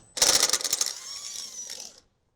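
A ratchet driving a T40 bolt beside the gas tank of a 2014-or-later Harley gives one close burst of rapid clicking, about two seconds long, that fades at the end, with no talk.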